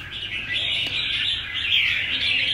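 A caged Aviza-type songbird, a forest-dwelling thrush-like bird, calls in a steady, bright stream of chirps and trills. It sounds close and fairly loud, with no voices over it.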